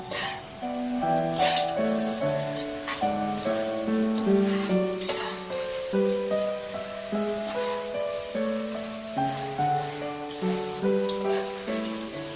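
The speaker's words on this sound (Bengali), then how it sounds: "গোবিন্দভোগ চাল যে ঘি দিয়ে মেখে রেখেছিলাম ওটা আমি পুরোটা দিয়ে একটু ভালো করে নেড়ে নেব" Gobindobhog rice coated in ghee is stirred in a hot pan, giving a soft, steady sizzle and gentle scraping. It sits low beneath a prominent melodic music track that plays throughout, with no one talking.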